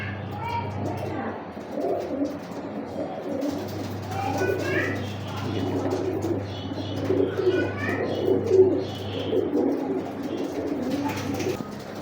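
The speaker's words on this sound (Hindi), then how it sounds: "ये देखें भाट साहब के पास ना एक जैसे कबूतर हैं सारे।" Pigeons of a matched pure breeder flock cooing steadily in a loft, soft throaty calls repeating over a constant low hum, with occasional chirps nearby.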